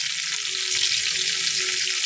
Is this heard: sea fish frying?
yes